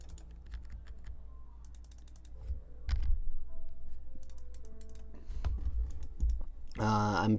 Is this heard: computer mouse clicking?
yes